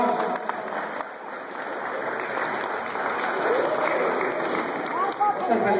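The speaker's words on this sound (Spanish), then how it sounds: "Un aplauso, por favor." An audience at a state journalists' convention in Guerrero breaks into dense, sustained applause that swells slightly toward the end, with voices calling out over the clapping.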